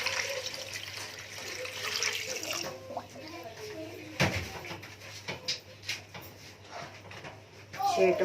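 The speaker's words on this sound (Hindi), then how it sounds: "ये पानी डालते हैं इसमें।" Water pours and splashes into a clay pot for matka biryani for a couple of seconds, followed by clinks and a voice speaking nearby.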